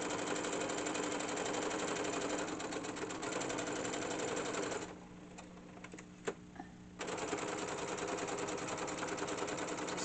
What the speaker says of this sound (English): Following my pattern, and you know, the lines that I drew, and I'm back stitching at both ends